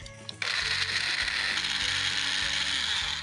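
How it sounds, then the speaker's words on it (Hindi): Kitchen blender whirring through grapes and pineapple for a smoothie, starting abruptly and running as a loud, steady motor whine with slight fluctuations, no talk over it. "Blend blend blend."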